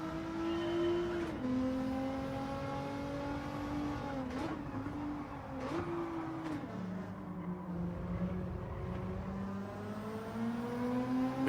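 A race car engine in the Gran Turismo 7 racing game holds a steady, loud whine with several pitch shifts as the car changes gears and lifts off the throttle, running continuously without speech.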